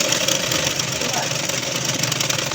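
A sewing machine stitching a straight seam through fabric from the centre of a V-shape, a dense continuous whirring hum with a rapid mechanical pulse, close and steady, with a voice talking over it.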